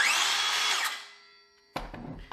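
Cordless circular saw, a Dewalt 20V DCS565B or Milwaukee M18 Fuel 2732-20, whines up and then winds down fast under its electric brake, followed by a short clatter of handling noise.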